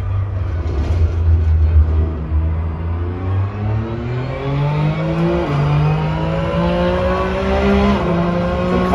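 Race car engine in a racing simulator game pulling hard after a gear change, near Eau Rouge at Spa, its loud steady roar climbing in pitch through the gear, then dipping and rising again as it shifts, with no talking.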